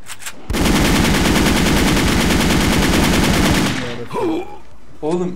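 Rapid automatic gunfire rattles in a continuous burst for about three seconds in a first-person shooter game, loud and close, followed by a few excited voices.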